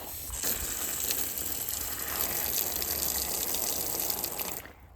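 Water gushing and trickling over a membrane-covered leek bed outdoors, a steady broadband wash that runs for about four and a half seconds, then stops abruptly.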